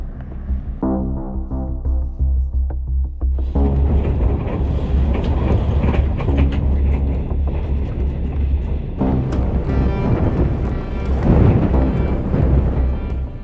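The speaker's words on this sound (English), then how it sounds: "This wind is brutal." Strong gusting wind over 70 mph buffets a fifth wheel RV, a loud, continuous low roar with rattling and shuddering that swells and eases in waves, with no talking.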